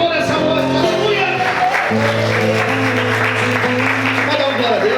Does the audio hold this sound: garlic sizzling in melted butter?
no